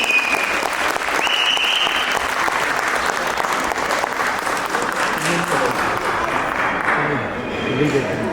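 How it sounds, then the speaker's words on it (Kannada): Sustained applause from an audience at a Ganesh Chaturthi cultural program, greeting a group of young girls after their children's dance performance; dense, steady clapping that fills the whole stretch, with crowd murmur and some talk underneath. "ಇವರಿಗೆ ಮತ್ತೊಮ್ಮೆ ಚಪ್ಪಾಳೆ ಕೊಟ್ಟು ಪ್ರೋತ್ಸಾಹ"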